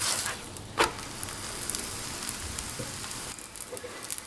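Flatbread sizzling in an oiled pan, a steady soft frying hiss that runs throughout with a few faint crackles and pops, close and fairly quiet.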